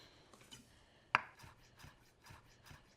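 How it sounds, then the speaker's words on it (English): Rough chopping of fresh parsley with a knife on a cutting board for a chicken and dumplings bowl, a sharp close knock followed by soft, irregular cuts in a quiet kitchen. "I'm gonna take some fresh parsley and give it a rough chop"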